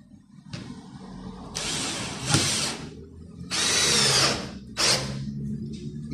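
A 12V or 20V cordless drill driver drives a screw into material, with several bursts of high whirring separated by short pauses and a faint low hum underneath.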